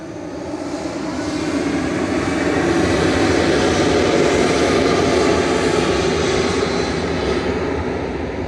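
A Finnair Embraer E190 at Manchester Airport gives off a loud, steady jet engine roar that rises over the first few seconds and then holds, a continuous broadband drone with no voices.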